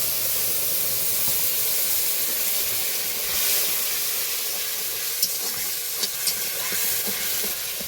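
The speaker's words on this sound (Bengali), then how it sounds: "তেলটা গরম হয়ে গেছে, এবার গোটা জিরে দিয়ে যে পেস্ট করে রাখা মশলাটা দিয়ে দেবো।" Whole cumin and spice paste sizzling in hot oil for a fish curry, a loud, steady frying hiss with stirring scrapes and a few small pops, no voices.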